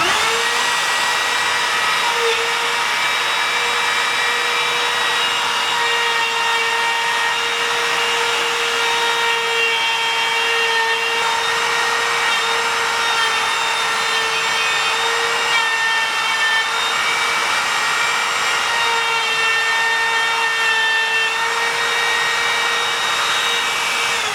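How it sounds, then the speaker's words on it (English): A wood router cuts letters into a board, guided by a bushing that rides in a sign template. The motor whines steadily and loudly the whole time with a bright, harmonic pitch and no talking. "then you just turn your router on and"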